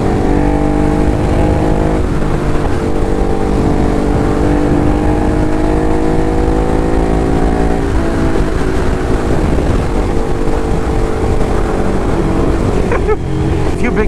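A Ducati Hypermotard motorcycle engine drones while riding through New York. A loud, continuous engine hum with steady harmonic tone and slight pitch shifts runs the whole way, with wind rush around it.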